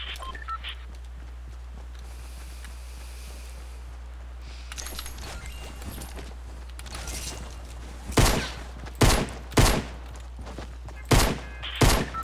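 Video game gunfire in Fortnite, a handful of loud, sharp single shots spaced irregularly in the latter half after a stretch of low hum and faint mechanical clicks.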